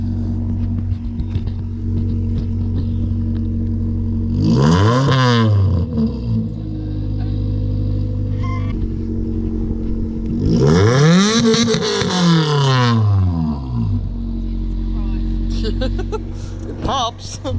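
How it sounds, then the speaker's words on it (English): A car with an exhaust leak idles with a steady low rumble, then revs up twice, the second rev longer and louder, each rising and falling close by, with a voice heard faintly over it. "Can I get a rev, please?"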